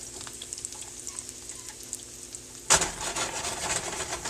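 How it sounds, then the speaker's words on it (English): German pancake batter sizzles sharply in a hot pan, a sudden loud burst of frying hiss that holds steady after a quiet start. "move your pan around like this so that you get the rest of your pancake batter to move around"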